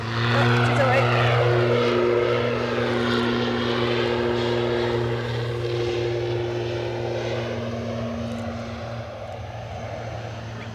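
A Ryanair airliner arriving at Edinburgh Airport from London Stansted, a strong steady engine drone with low humming tones and a sweeping whine, loud at first and slowly fading, with voices faintly present.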